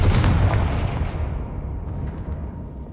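Confringo blasting spell explodes in the video game Hogwarts Legacy, one loud booming burst at the start that rumbles and fades slowly over a few seconds, with no talk.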